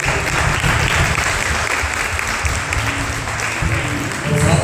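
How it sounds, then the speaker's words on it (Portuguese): Church congregation applauding in praise during a service, a broad continuous clapping roar under a low sustained hum, loud and steady with a slight swell at the end. "Você pode aplaudir a Deus, irmão?"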